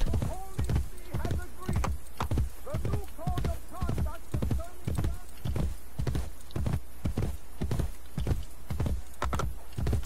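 Horse hooves in the video game Assassin's Creed Brotherhood clip-clop at a steady galloping rhythm throughout, close and loud, with occasional whinnies and someone talking over the action.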